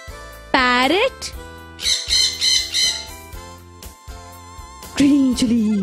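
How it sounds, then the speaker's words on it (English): A parrot gives a sharp, close squawk, then a burst of rapid chattering calls follows, and a second loud squawk comes near the end over a soft musical background. "Parrot."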